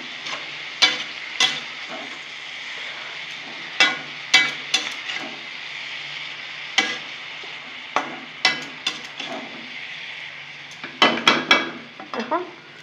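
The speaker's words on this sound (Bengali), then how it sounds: "নেড়ে দেবো" Bathua saag leaves with eggplant and bori are stirred in a pan, giving a steady sizzle with repeated sharp scrapes and clinks of the spoon against the pan, closer together near the end.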